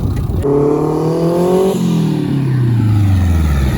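A turbocharged Miata-engined kart revs hard up close, its loud engine climbing in pitch, dropping briefly, then winding back down in a long falling drone.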